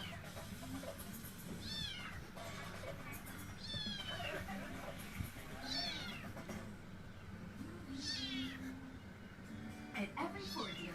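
Kitten meowing repeatedly in short rising cries spread through the stretch, fairly close, over a steady hum and low background noise.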